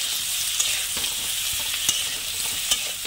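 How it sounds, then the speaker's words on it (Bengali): A spice paste of poppy seed, cashew and ginger fries in a pan with a steady, close sizzle, while a spatula stirs and scrapes it now and then. No one speaks. "পুরো ভালো করে মশলাটা আমি এইভাবে কিন্তু সব একসঙ্গে কষিয়ে নেব"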